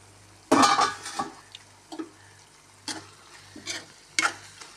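Carrot and tomato bhaji sizzles steadily in a pan while a spoon scrapes and clatters against the metal in several separate stirring strokes, close by with no talking.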